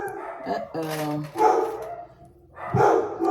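Several dogs barking and howling nearby in overlapping bursts, with a drawn-out whine in the middle.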